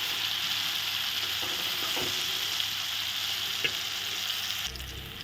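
Pieces of dhoka, a Bengali lentil cake, frying in reused hot oil, producing a loud, steady, close sizzle with a couple of faint clicks and no talking.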